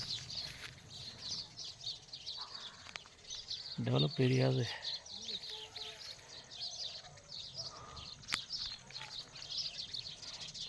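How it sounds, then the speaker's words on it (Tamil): Many sparrows chirp continuously in the background near a paddy field, joined by a brief low mechanical burst, while someone speaks briefly. "எவ்வளோ சிட்டுக்குருவி அப்பா, சிட்டுக்குருவி இங்கே நிறையா இருக்குங்க"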